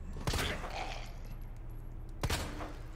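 Two sharp bursts of gunfire from the video game Resident Evil 2 Remake crack out about two seconds apart over a steady low hum.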